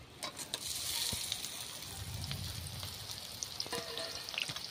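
Dried red chillies, chopped green chillies, tomato, carrot and onion fry in oil with a soft, even sizzle, plus a few faint clicks, heard close and steady with no voices.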